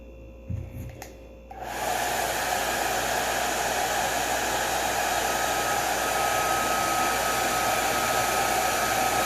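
A hair dryer heating a Jamberry nail wrap switches on after a brief handling clatter and blows with a loud, steady, close roar that runs without a break.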